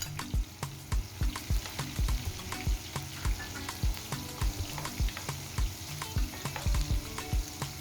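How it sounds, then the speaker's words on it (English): Onions frying in hot oil for gizdodo, gizzard and fried plantain sauce, give a steady close sizzle with repeated sharp scraping knocks as they are stirred, and no voices. "The oil is set, so I'm going to add my onions, allow it to fry for some time. I'm going to stir it now."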